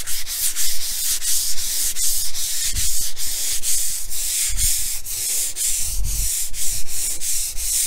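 Heavier-grit sandpaper rubs back and forth across a cabinet top painted in latex paint, loud, close and continuous, with rhythmic scraping strokes repeating roughly every half second and no voices.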